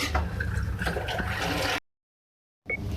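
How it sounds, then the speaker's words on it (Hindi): Water from three glasses poured into a pot of khichdi being cooked, a steady liquid splash and gurgle for almost two seconds, then a brief silence before a short scrape and splash resume. "इसमें मैं 3 गिलास पानी ऐड कर रही हूँ।"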